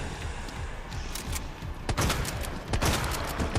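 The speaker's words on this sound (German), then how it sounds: "Schießen wir einfach mal mit allem drauf, was wir hin." Rapid bursts of gunfire in Resident Evil 2, a string of sharp cracks and thuds firing in quick succession, growing denser toward the end.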